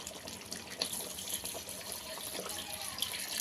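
Water poured into a cooking pot on a simmering stove, running and splashing steadily, with small drips and clinks, moderately quiet and close, no talking.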